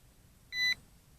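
A VEENIIX V11AIR quadcopter emits a single short electronic warning beep, clear and high-pitched, against a quiet background.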